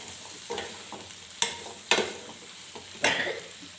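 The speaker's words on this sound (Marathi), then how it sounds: "याला परत एकदा परतून घेते" Guava sabzi sautéing in a pan, a low steady sizzle punctuated by four or five sharp spatula scrapes and knocks spaced about half a second apart, close up and without speech.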